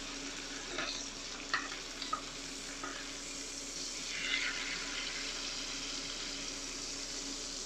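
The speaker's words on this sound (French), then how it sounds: "c'est de faire revenir un peu son lard fumé, récupérer toutes les bonnes saveurs" Smoked bacon gently frying in butter in a pan, a soft steady sizzle throughout with a few light clinks of stirring, fairly quiet.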